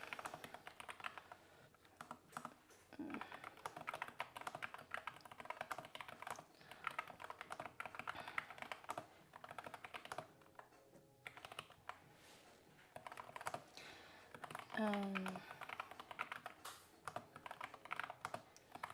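Mechanical keyboard switches clatter in a steady, rapid run of keystrokes throughout, fairly close and moderately loud, with brief pauses and a faint tonal sound near the end.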